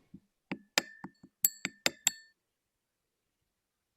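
Glass clinks and taps from stirring liquid sodium-potassium alloy with ethanol in a glass vessel: about eight sharp, ringing knocks spaced irregularly over two seconds, close and clear, then near silence with one last faint tap.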